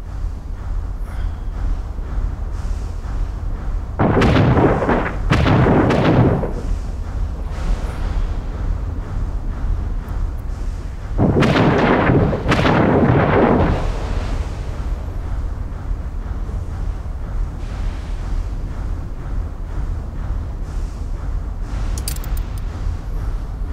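Cannon fire from a naval battle in Anno 1800, heard as two clusters of loud, booming blasts a few seconds each, separated by a quieter stretch of low rumbling game ambience.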